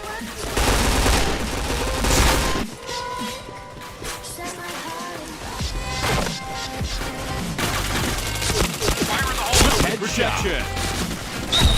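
Rapid gunfire bursts and single shots from the online shooter game Point Blank, dense and loud, with a voice talking over the shooting now and then.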